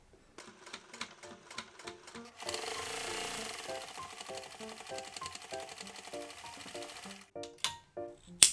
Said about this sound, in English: First, I'm going to sew this dart and this dart.